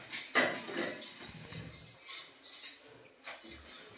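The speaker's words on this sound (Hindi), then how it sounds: "अब इन्हें मैं धुल लेती हूँ" Dishes and utensils washed in a home kitchen: scattered clinks of cutlery and pots with bursts of running water and scrubbing, close and moderately quiet.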